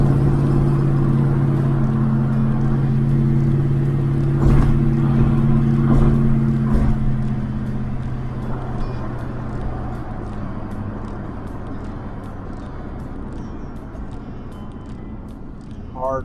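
A 1961 Chrysler Newport, its brakes newly freed up, drives along with a steady mid-pitched engine hum and tire-road noise that eases slightly partway through. Faint talk is heard early on.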